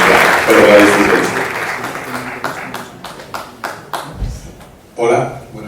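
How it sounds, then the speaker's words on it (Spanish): Audience applause for a lecturer at a talk on Ennio Morricone's western music, a dense burst of clapping that thins into scattered claps, with a voice speaking near the end. "Un aplauso para él."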